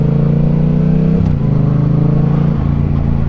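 Yamaha R7 sport bike engine droning steadily while riding, a loud continuous hum that dips in pitch twice as gears change, with no talking.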